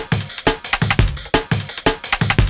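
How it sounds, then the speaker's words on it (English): Breakbeat drum loop with heavily boosted transients, strong saturation and crisp bright highs, snappy kicks and snares repeating in a tight syncopated groove, loud with no voices. "We're boosting the transients a lot, saturating a lot as well, and then adding that crisp high end"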